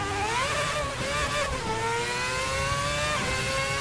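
Ferrari F10 V8 engine revving hard in the Assetto Corsa racing game, a loud continuous high-pitched wail rising and dipping in pitch through gear changes, heard alone.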